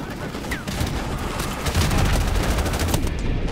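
Dense, continuous machine gun fire from a tank-mounted gun in the Call of Duty: Modern Warfare Remastered war game, a steady loud rattle of rapid shots with battlefield noise throughout and no break.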